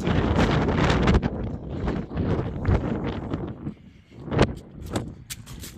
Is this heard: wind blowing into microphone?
yes